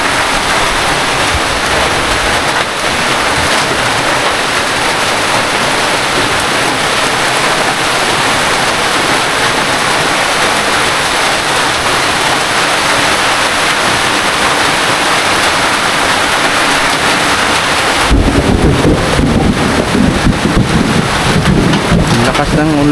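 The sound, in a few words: heavy rain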